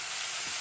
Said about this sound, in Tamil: ஒரு 50 ml கடலை எண்ணெய் ஒரு பேனில் ஊற்றிட்டு 3 பெரிய வெங்காயம் பொடியாக நறுக்கி இருக்கிற அதை போட்டு நல்லா வதக்கணும்